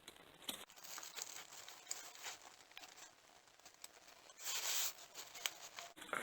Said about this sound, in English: when you're removing these plastic fasteners from the hand